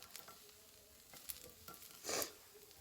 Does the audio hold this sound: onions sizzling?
yes